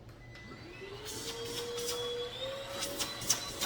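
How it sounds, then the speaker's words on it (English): A Wowgo cordless vacuum cleaner runs with its head removed, giving a steady motor whine whose pitch slowly rises and then holds, with a few brief rattles and clicks over the hum. "I want to see how powerful the suction is."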